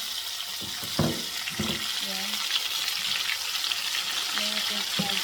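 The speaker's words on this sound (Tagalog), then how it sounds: "nandito na akong pinirito" Chicken frying in a pan, giving a close, steady crackling sizzle with a few louder bursts and clinks of a utensil early on, while a voice murmurs faintly in the background.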